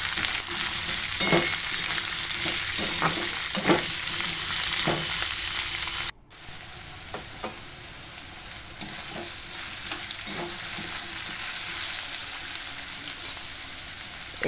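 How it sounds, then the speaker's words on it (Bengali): Thin cucumber slices sizzle steadily in hot oil while a spoon stirs them, with a continuous close frying hiss and intermittent scraping strokes, briefly interrupted partway. "শশাগুলো দিয়ে আমি ভালো করে কষিয়ে নেব বা ভেজে নেব।"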